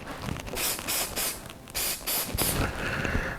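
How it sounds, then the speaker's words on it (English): An aerosol can sprays in a series of short hissing bursts onto acrylic pen blank casting, several quick sprays one after another, close and fairly loud. "So I'm going to go ahead and spray this"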